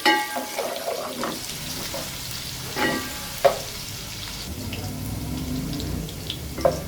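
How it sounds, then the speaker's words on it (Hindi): Slices of a medium onion fry lightly in a pan for chicken tahari, a soft steady sizzle with a few stirring clinks and scrapes and no talking. "अब इसको थोड़ा सा हम फ्राई कर लेंगे प्याज को हल्का सा"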